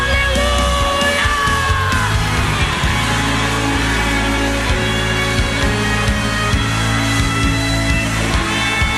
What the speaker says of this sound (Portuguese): dê um brado de vitória, solte um grito de aleluia